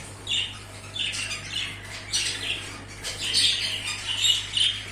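A molting pet bird squawks repeatedly in short, harsh bursts, fairly close, with a steady low hum underneath.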